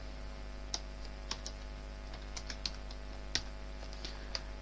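Scattered keystrokes tap on a computer keyboard while data is entered into an Excel sheet, faint and close, with irregular clicks over a steady electrical hum.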